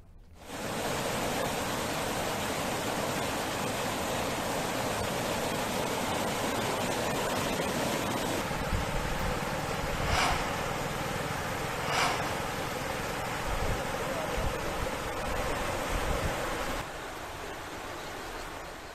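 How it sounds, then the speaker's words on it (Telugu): A swollen stream near Narasimhalagudem in Khammam district, overflowing after heavy rain, rushes with a dense, steady roar that holds at an even, fairly loud level throughout. "నరసింహలగూడెం దగ్గర వాగు ఉప్పొంగి ప్రవహిస్తున్న దృశ్యాలు ప్రస్తుతం మనం చూస్తూ ఉన్నాం"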